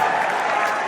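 Applause and cheering from a crowd at an MMA fight press event, a dense steady wash of clapping that fills the whole moment without a break.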